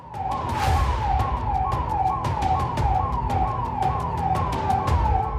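An ambulance siren wails in rapid rising and falling cycles, steady and fairly near, over a low traffic rumble in Kokernag, Anantnag, Kashmir.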